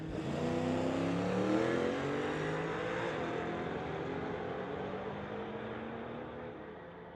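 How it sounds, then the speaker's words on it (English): A Chevelle and a BMW launch down a drag strip at a street-legal drag night, engines revving and rising in pitch through the gears, loud at first and slowly fading into the distance. "We've got the Chevelle versus the Beamer."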